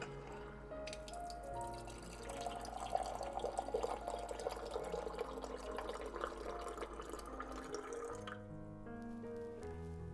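Hot water pours into the base of a moka pot in a steady, faint trickling stream that runs for several seconds before tapering off, with quiet background music underneath.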